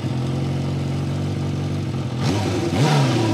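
A Kawasaki Ninja H2 motorcycle engine idles steadily and close by, then gives two quick throttle revs that rise and fall in pitch.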